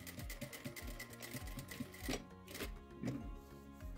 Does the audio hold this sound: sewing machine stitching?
yes